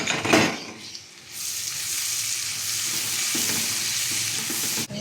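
Garlic and onion fry in butter or oil for salted egg pasta, with a loud, continuous close-up sizzle after a brief clatter as the ingredients hit the pan.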